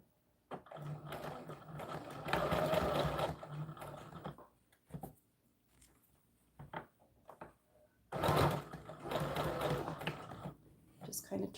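A sewing machine stitches a seam on a doll dress in two long, fast bursts a few seconds apart, with quieter handling sounds and pauses between the runs.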